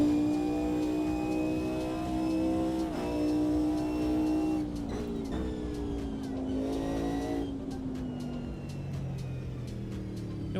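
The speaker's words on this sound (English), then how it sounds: "This car sounds good." A race car engine in the Automobilista 2 racing sim, revving loud and steady, its pitch sliding down and climbing again through gear changes, with quick clicks from shifting.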